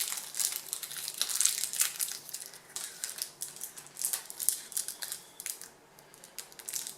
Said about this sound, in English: I'm going to just roll some balls of tin foil up